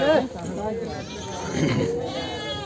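A goat bleats briefly up close at the start, followed by people talking nearby at a goat market.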